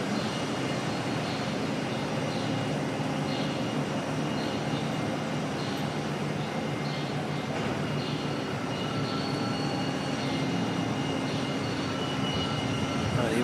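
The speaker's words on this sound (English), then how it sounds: "American Airlines pushing back now as well." An American Airlines jet pushing back at Auckland Airport gives a steady, distant engine drone with a broad airy hiss, holding evenly the whole time with no talk.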